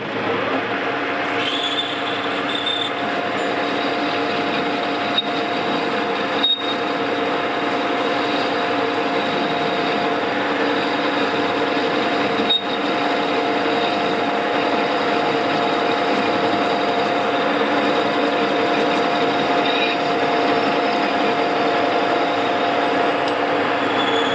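A grinding machine works the outer bearing race of a KM5 quill with a loud, continuous mechanical whine and hum, steady and close for the whole stretch, with a few faint clicks and no talking.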